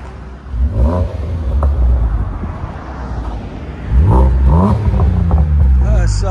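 A V6 car engine revs through its exhaust in a few rising and falling pulls, loud and close, the throttle blipped twice with a stronger surge in the second half.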